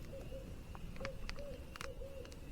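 Several short owl hoots carry across a bay at night near a wild campsite, moderately close, mixed with light clicks and ticks from the camp and no talking.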